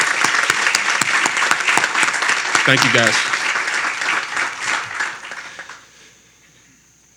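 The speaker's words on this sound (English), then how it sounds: "Let's give them a round of applause." An audience at a recognition event for building project representatives breaks into sustained applause, loud and full, with a voice speaking briefly amid it before the clapping dies away.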